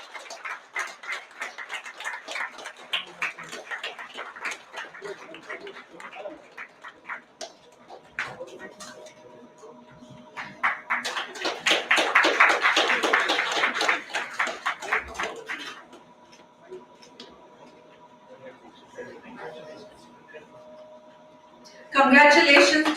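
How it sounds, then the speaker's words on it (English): Clapping from an audience honouring chess tournament winners, applause rising and fading in waves, with an announcer's voice heard over parts of it. "big round of applause, please"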